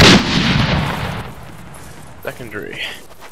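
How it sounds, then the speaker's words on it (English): A loud booming explosion in a military combat video game opens and rumbles away into a fading roar, followed by faint radio-like voices chattering afterward. "Explosion heard, right?"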